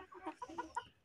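Desi country hens cluck softly in a small backyard pen, a few short throaty calls in quick succession, close but quiet, with no talking.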